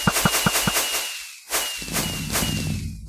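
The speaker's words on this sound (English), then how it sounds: "Here are awesome fireworks." Fireworks going off in the Minecraft video game: a quick run of sharp cracking bursts followed by a few booming pops and crackles, loud and close, with no talking.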